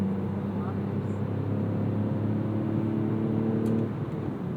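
A small car's naturally aspirated 3-cylinder 70 hp engine with a 5-speed manual revs under hard acceleration, a steady droning hum heard from inside the cabin.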